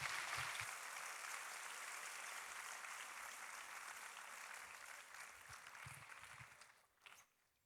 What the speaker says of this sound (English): Let's give Soumya another loud round of applause for that emphatic speech